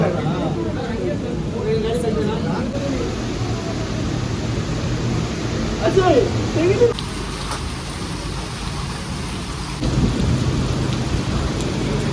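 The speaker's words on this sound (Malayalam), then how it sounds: "മഴയാണ് ഇത്." Steady rain hisses throughout in Bangalore, with a low rumble of thunder rolling in partway and a voice speaking over the downpour.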